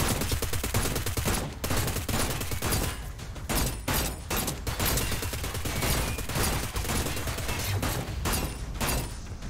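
Repeated volleys of gunfire from the sci-fi video game Seeking Dawn, set on an alien planet, crackle almost nonstop at moderate loudness, with brief gaps between bursts.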